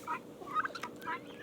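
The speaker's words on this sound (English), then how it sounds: "you're a sweet chicken" A farm chicken clucks in short, bright bursts, several quick calls spread across a moment, close by and fairly quiet over a soft outdoor background.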